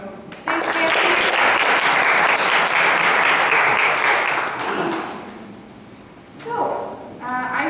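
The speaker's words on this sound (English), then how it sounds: "can we give a round of applause to Nancy" Loud audience applause at a talk fills the room for several seconds, then fades, with a brief burst of clapping and voices near the end.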